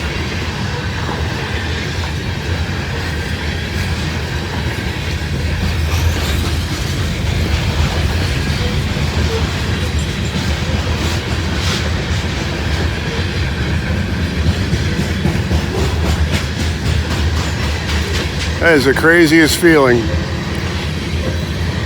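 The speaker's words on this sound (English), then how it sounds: "It is just shaking away with this train going by." A train rolls past close by, a continuous low rumble with clattering wheels and a brief squeal near the end, while a person speaks over it.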